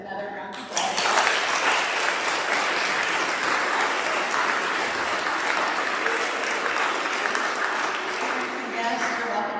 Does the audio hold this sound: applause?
yes